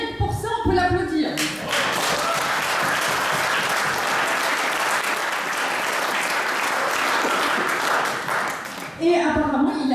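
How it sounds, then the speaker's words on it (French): A hall audience applauds for Professor Marc Chesney, dense sustained clapping filling about eight seconds, with a voice speaking briefly before and after. "Donc rien que pour ça, on peut l'applaudir."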